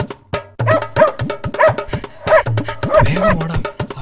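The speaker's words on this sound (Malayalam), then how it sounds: "അയ്യോ, പട്ടി വരുന്നേ!" In a children's cartoon, a dog gives a string of sharp, close barks and yips at an irregular pace. Whimpering tones mix in, and a cartoon voice talks between the barks.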